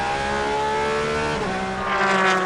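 LMP2 prototype race cars battle for position at Le Castellet in the 2019 4 Hours race, with loud, close engine roar and shifting revs as the cars accelerate, and a faint tire squeal near the end.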